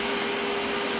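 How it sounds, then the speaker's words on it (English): A small TIG welder welds a car hood scoop with a loud, steady hiss and a constant electrical hum, unbroken and close by. "this little TIG welder, and I'm going to weld it now"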